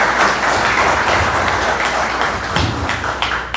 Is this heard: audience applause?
yes